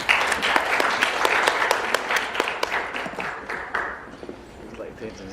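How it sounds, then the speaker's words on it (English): An audience at a lecture in Jakarta applauds steadily, dense clapping close by that thins out and fades toward the end. "Please give a round of applause."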